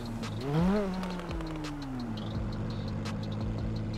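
A modded car in GTA 5 revs briefly, then settles into a low idle, with sharp crackling pops from the exhaust scattered over the engine hum.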